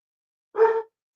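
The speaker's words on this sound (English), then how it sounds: "Oh, I'm sorry about the dog." A dog gives a single short, sharp bark, close and clear, in otherwise silent surroundings.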